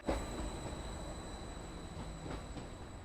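A train to Cromer rolls along the rails with a steady low rumble and faint rhythmic clacks, heard from inside the carriage.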